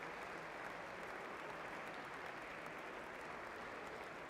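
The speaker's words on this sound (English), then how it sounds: "A big applause for them coming from the stands" Spectators in the stands at a Premier Padel tournament on the central court applaud the players, a dense, even wash of clapping that holds steady throughout without pauses.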